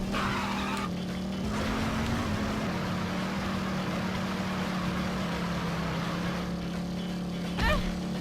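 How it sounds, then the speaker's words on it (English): Engine drone from a motorcycle in the No More Heroes video game, a steady loud hum running throughout with a short thump near the end. "You never use this motorcycle in any level, by the way."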